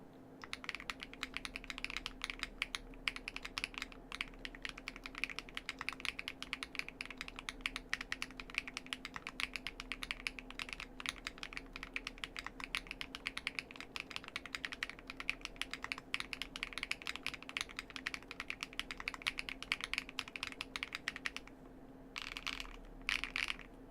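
Continuous typing on a mechanical keyboard fitted with Epokmaker Creamy Jade switches, a steady close-up stream of keystroke clacks with a brief pause near the end and no talking.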